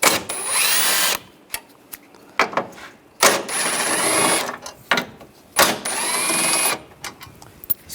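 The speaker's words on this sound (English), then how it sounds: "Now we'll take these 3 bolts out," A power drill with a 10mm socket spins out headlight assembly bolts on a 2013-2016 Dodge Dart, three loud whirring bursts of about a second each separated by short pauses and small clicks.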